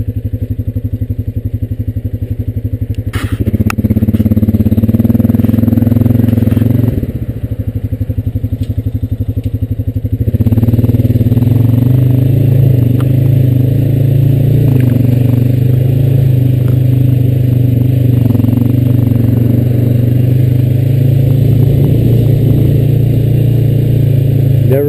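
Honda Rancher 420AT ATV engine running steadily on a road while turning around, a low droning hum that shifts pitch as the throttle changes, then settles into a constant rumble.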